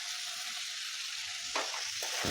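Tomatoes fry in a pan for capsicum paneer masala, making a constant soft hiss, with two brief stirring scrapes near the end.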